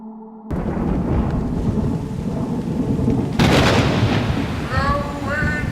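Thunderstorm with steady rain as a sound effect in a stage production of King Lear: a continuous broad wash of rain with rumbling thunder, swelling into a louder crack partway through, plus a faint voice near the end.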